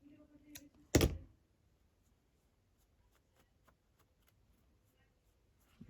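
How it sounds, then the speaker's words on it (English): Scissors snip embroidery thread on a slow-stitched journal piece: one sharp, loud cut near the start, followed by faint, quiet rustling and light clicks in an otherwise still room. "So I'll snip those."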